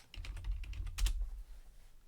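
Computer keyboard typing in short bursts of clicks at close range, with a cluster of keystrokes near the middle and a quieter patter trailing off, no voice.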